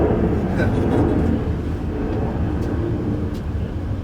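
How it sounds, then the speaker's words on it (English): An aeroplane passes overhead above a wheat field, a broad low rumble that stays loud and steady throughout with no talking. "Wait for the aeroplane."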